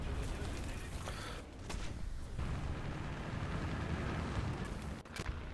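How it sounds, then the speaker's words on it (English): Tank cannon fire and explosions in the War Thunder video game, a dense, low, rumbling wash of booms with a few sharper blasts, fairly faint overall. "I'm being shot from frickin' everywhere and then some."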